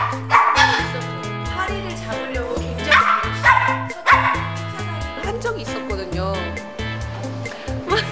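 A dog barks and yips in short bursts over a steady tonal background, fairly close and loud, with whimpering between the barks.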